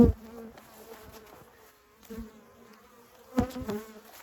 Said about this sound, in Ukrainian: Карніка. Це порода інша у нас бджіл.